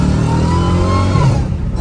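A supercharged Dodge Challenger Hellcat Redeye roars loud and close during a quick acceleration pull, its engine note climbing steadily with supercharger whine over a dense, throaty rumble.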